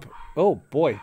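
Puppies bark at a mail carrier arriving: two close, loud harmonic yips or barks in quick succession, with a voice speaking briefly.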